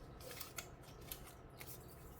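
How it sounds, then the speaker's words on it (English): Large scissors slice through paper during art journal work, a steady run of crisp snipping cuts with small sharp peaks, close and fairly quiet, no one talking. "Wow, I love these big scissors."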